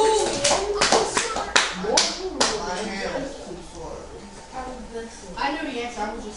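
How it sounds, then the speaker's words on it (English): A classroom of students gives a round of applause: sharp claps burst out loudly at first, then thin into scattered claps while children's voices chatter over them. "Give yourselves a round of applause."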